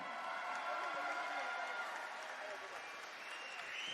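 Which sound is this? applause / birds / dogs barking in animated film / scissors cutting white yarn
applause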